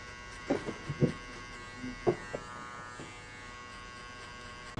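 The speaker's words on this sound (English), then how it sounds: "Next step, open the clipper and just jump 1 inch." An electric hair clipper cuts hair for a mid drop fade, a steady faint buzz running under several soft brief bumps and clicks from handling, with no talking.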